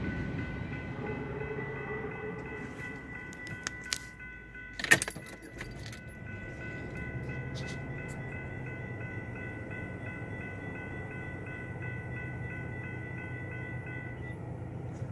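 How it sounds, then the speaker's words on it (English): A long BNSF freight train loaded with crude oil rolls steadily past in Detroit Lakes, Minnesota, a continuous rumble with wheel clatter and squealing metallic tones, plus a brief burst of clanking. "Crude oil train."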